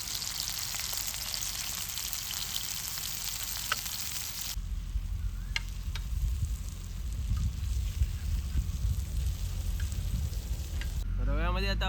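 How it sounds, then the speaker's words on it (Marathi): Bombil fish coated in semolina frying on a hot tawa, a dense crackling sizzle that shifts to a softer, spattering fry midway, with a short burst of voice at the end. "तव्यामध्ये हा जो बोंबलांचा किरकिराट आहे ना"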